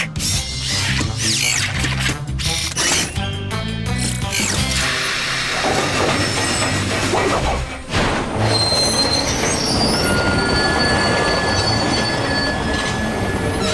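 A train rolls along the rails with rhythmic clacking and squealing wheels, loud and close, with high-pitched screeching tones growing in the second half.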